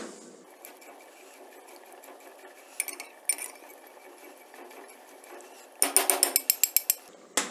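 A spoon clinks against a pot while cream is stirred into hot tomato soup to temper it, with a few scattered taps followed by a quick run of rhythmic metallic strikes, close and fairly quiet.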